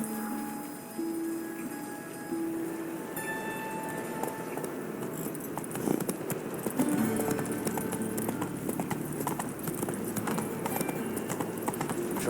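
In The Witcher 3, a horse's hooves clip-clop in a steady walking rhythm that picks up and grows louder partway through, with creaks and background game ambience around it.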